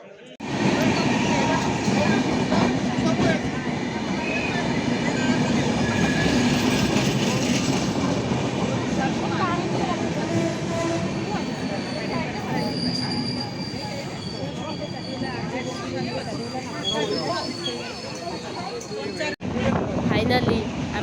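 A train pulls into platform 2 at Balasore railway station, rumbling loudly with squealing wheels and clattering rail joints. Station noise and voices run underneath throughout, and there is a brief dropout near the end.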